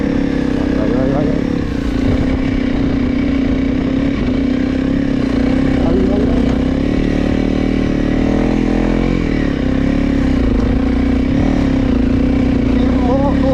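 A Honda CRF300L motorcycle rides through snow, its single-cylinder engine droning steadily and loudly throughout with slight shifts in pitch, while a rider's voice speaks intermittently over it.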